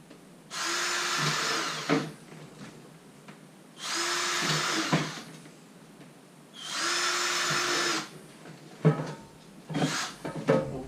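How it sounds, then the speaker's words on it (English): A power drill with a quarter-inch bit bores holes through a 64-quart plastic container, making three sustained high whining bursts of about one to one and a half seconds each, followed by bumps and handling noises. "Just drill a few holes."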